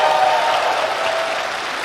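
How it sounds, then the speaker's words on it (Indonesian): A stand-up comedy audience bursts into applause, a dense wash of clapping that is loud and close at first and then slowly fades over a couple of seconds. "Tepuk tangan semuanya."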